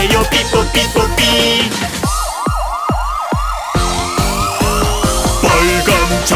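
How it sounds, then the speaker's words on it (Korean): A wailing ambulance siren in a Korean children's song, rising and falling in repeated loud sweeps over a bouncy musical backing with sung vocals. "하얀 자동차가 삐뽀 삐뽀 내가 먼저 가야 해요 삐뽀 삐뽀 아픈 사람 탔으니까"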